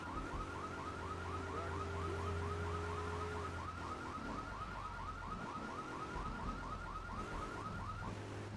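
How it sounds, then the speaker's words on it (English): A car alarm in Grand Theft Auto III: Definitive Edition wails in rapid repeating up-down cycles, steady and continuous, over a low background rumble. "Does this car always have to have the alarm going off?"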